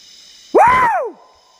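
A single loud, drawn-out shout in dense forest in the Titiwangsa Range, Malaysia, rising then falling in pitch, standing out against quiet surroundings, with a faint fading tail afterward.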